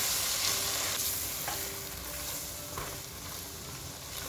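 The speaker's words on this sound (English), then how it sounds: "Now it's time to mix our masala." Masala of red chili and coriander powder stirred in a sizzling pan, with soft scraping strokes over a steady frying hiss and no voices.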